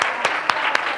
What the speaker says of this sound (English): We want applause for them.